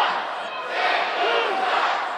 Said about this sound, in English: St. Louis sucks chant ringing out throughout the Scottish Rite